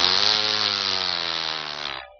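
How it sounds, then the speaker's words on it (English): A chainsaw runs at steady high revs in a cartoon scene, a loud continuous buzzing drone for about two seconds before cutting off. "Can I at least use my chainsaw?"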